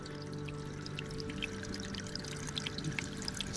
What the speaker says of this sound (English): Look, it's our first waterfall.